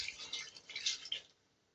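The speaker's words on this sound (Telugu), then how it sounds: "వాటర్ వేస్తున్నాను." A brief splash of water poured into a pot of curry, close and soft, lasting about a second before stopping.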